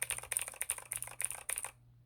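Typing on a keyboard fitted with white keycaps found at a thrift store: a quick run of clacky keystrokes in clustered bursts, close and fairly quiet, ending in silence.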